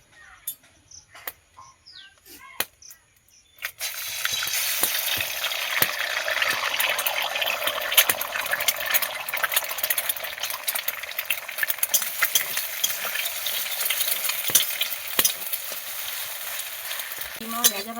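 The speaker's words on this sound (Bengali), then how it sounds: "প্রথমে ডিমটা ভেজে নেব।" An egg hitting hot oil in a kadai (wok): a few scattered knocks, then a sudden loud, steady crackling sizzle that carries on for the rest, with sharp pops spiking through it.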